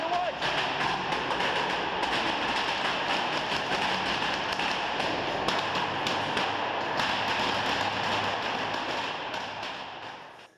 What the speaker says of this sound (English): it's about a minute of this firecracker going off